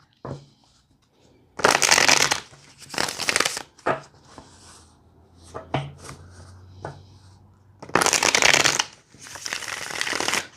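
Tarot cards being shuffled by hand: three or four loud, crisp riffling bursts separated by quieter handling and soft rubbing, with no talking.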